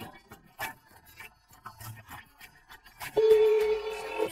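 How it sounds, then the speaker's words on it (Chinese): A telephone number is keyed in with a few soft tone presses, after quiet rustling and handling noises, with no one talking. "你们不信的话，自己打电话问问。"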